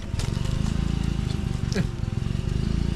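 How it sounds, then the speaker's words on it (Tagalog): A generator runs steadily nearby on a fishing outing, a loud, low, rhythmic engine chug that continues without pause, with a faint voice over it. "Pasensya niya kung maingay. May generator dyan."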